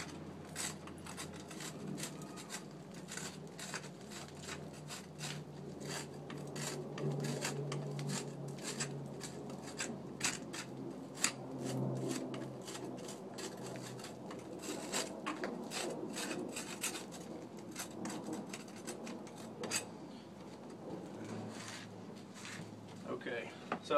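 Old mortar being raked out of brick joints before tuckpointing, giving steady, close, gritty scraping and rasping strokes that repeat throughout with small sharp clicks.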